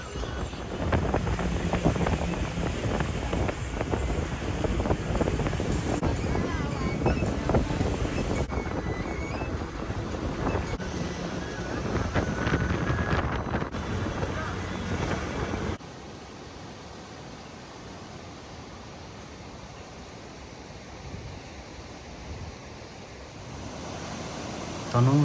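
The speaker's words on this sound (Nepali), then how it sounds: "यति निलो कञ्चन भएर बग्ने नदी अहिले धमिलो भएर बगिरहेको छ, एकदम वर्षाका कारण।" The rain-swollen Marsyangdi river in Nepal, between Tanahun and Gorkha, rushing with a continuous broadband roar mixed with wind buffeting on the microphone, dropping to a softer, steadier rush partway through.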